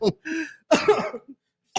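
A couple of short, harsh coughs up close, separated by brief pauses, with a throat-clearing sound mixed in.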